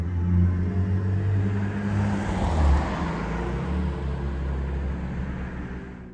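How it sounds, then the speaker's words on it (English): Road traffic on St Mary's Road, Portsmouth, near a railway bridge: a continuous low engine rumble from passing cars, swelling as a vehicle goes by, then settling into a steady roadside drone. "Excuse the traffic, it's very noisy here."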